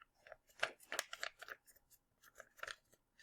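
Paper being folded in half and creased to make a place value foldable, soft crinkling and crisp rustling bursts up close, quiet and irregular, with no talking.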